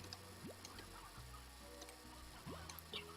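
Soft chicken clucks from the video game Slime Rancher pop up over a steady electronic backdrop with low synthetic tones, with no talking.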